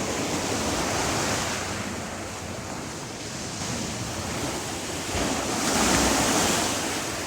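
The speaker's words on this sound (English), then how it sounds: "Lovely sounds of the waves." Sea waves breaking along Teignmouth seafront, a steady roaring wash of surf with wind buffeting the microphone, swelling louder toward the end and heard alone without voices.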